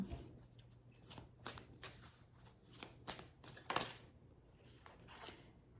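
Tarot cards shuffled and drawn close at hand: quiet papery riffles and soft slaps in short bursts, with one brief sharper snap, over faint room tone.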